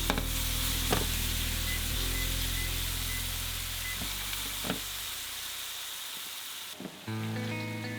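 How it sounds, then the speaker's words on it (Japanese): Tomatoes fry in a pan for a shrimp cream pasta, a steady close sizzle with occasional utensil taps, fading and settling near the end. "僕は先にこういう場合はトマトを炒めます。"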